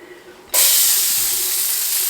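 Onions hit a hot pan after browned meat, setting off a sudden loud hiss that holds steady and close for the rest of the moment, following a quiet start.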